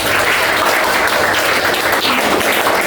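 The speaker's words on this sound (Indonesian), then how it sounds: "Oke, tepuk tangan lagi." A classroom of students applauds, steady, loud, close clapping filling the whole stretch with no talk over it.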